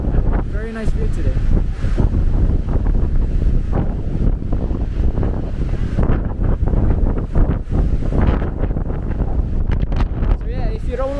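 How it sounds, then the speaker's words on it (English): Strong wind buffets the microphone at Pali Lookout on Oahu, a loud steady rumble throughout, with a person talking over it. "the wind is a little less intense here"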